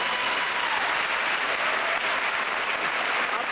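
An audience at the Portland ACT-SO competition applauds after a performer's spoken piece, a loud, continuous wash of clapping that holds steady without a break.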